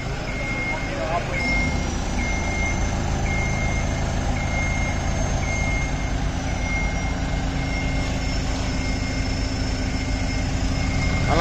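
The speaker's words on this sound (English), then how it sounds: "Alarm is on. Go ahead, proceed." A carry deck crane's anti-two-block warning alarm beeps steadily over a loud idling heavy engine, with a high electronic tone droning alongside.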